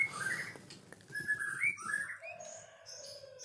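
An albino long-tailed shrike sings nearby in short whistled chirps and warbling phrases, with brief pauses between bursts, fairly clear over a quiet background.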